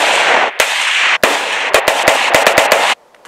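A Stag Arms AR-15 rifle chambered in .223/5.56 being fired: about ten loud, sharp reports, spaced at first, then coming in quicker succession over a steady roaring background.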